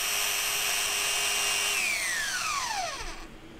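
A power sander grinds away excess material on a homemade bicycle brake pad, a steady high whine that holds, then drops in pitch and winds down as the tool spins to a stop.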